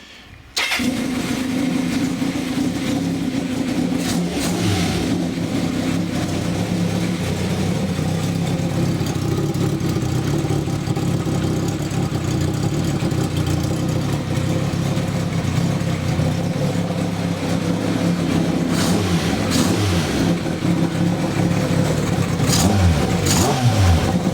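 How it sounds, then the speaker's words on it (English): A Kawasaki Z650 bobber motorcycle fitted with second-hand header pipes starts up and runs loudly for the whole stretch, idling with a steady throb broken by several sharp throttle blips. "To hear an engine running, don't we?"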